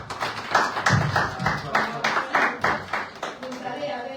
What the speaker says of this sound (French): je vais citer le nom de Alifal, que je vous prie d'applaudir dans cette salle